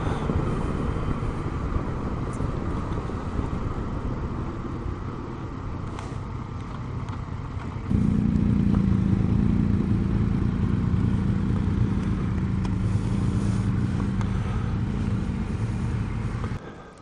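Steady engine drone from motorcycle riding on an open road with wind rumble, continuous throughout and growing louder and deeper partway through as the engine works harder, with no talk.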